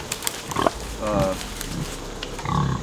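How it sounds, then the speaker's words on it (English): Pigs on a homestead farm nearing harvest weight, grunting and squealing in short bursts at close range, with people talking in between. "Pigs are getting close to harvest weight."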